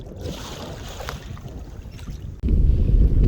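Wind blowing hard across the microphone at the coast while out kayaking, a steady rushing roar that jumps louder near the end, with no talk.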